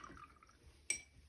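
A wet watercolor brush swished in a water jar during a floral painting session, giving a single short splashy clink against glass after a near-silent stretch, close and fairly quiet.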